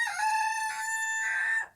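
A single drawn-out rooster crow rings out close and clear, a bright sustained cock-a-doodle-doo lasting under two seconds before cutting off, with no talk.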